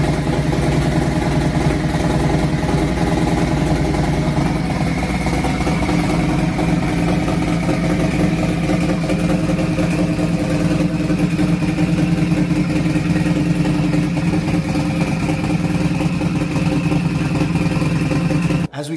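A Harley-Davidson motorcycle fitted with a home-built turbo kit idles steadily and loudly up close, a rough continuous rumble with clattering texture that cuts off abruptly at the end.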